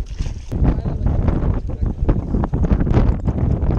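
Strong wind buffets a fishing boat out on open water, roaring steadily across the microphone with gusty surges throughout.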